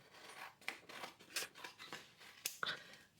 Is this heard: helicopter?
no